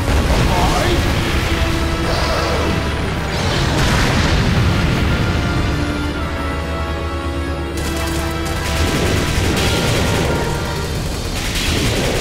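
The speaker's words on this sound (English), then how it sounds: "The ceiling fell down!" A ceiling collapsing in the 2014 arcade shooter Lost Land Adventure, a loud, sustained rumble of booms and crashing debris that persists throughout, swelling in several heavy waves.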